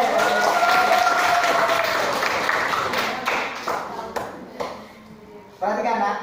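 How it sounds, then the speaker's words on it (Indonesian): Students in a classroom applauding together, a dense burst of clapping over excited voices at close range that thins out and fades, then briefly surges again near the end. "Oke, tepuk tangan buat kita semuanya ya."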